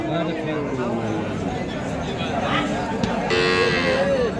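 Dairy cows and calves low and moo amid a noisy cattle market crowd, with people talking throughout and a drawn-out call near the end.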